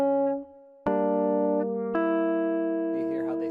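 Several guitar notes are played together and left ringing, with a second strum layering more sustained tones that hold and slowly fade, near and clear.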